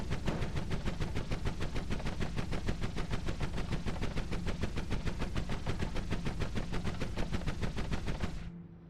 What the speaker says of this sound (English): I will shoot blindly.